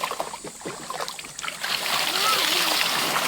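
People bathing in fresh water splash about nearby, a rushing watery wash rising and holding steady while voices talk over it.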